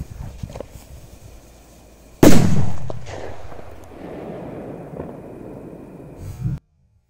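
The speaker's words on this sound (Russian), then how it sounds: "давайте напоследок бахнем вот такой К-999" A K-999 firecracker explodes outdoors at night: one sharp, very loud bang after a quiet stretch, followed by a long echoing rumble that fades over several seconds.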